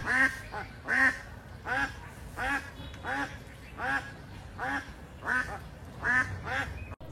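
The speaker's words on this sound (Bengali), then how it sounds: "এতক্ষণ হাঁসটি চিল্লালো কি লিয়ে জানেন" A duck quacks loudly and close in repeated, evenly spaced bursts of several harsh quacks each, around a dozen calls in a steady rhythm over a low background rumble, at a home where a fox trap has been set.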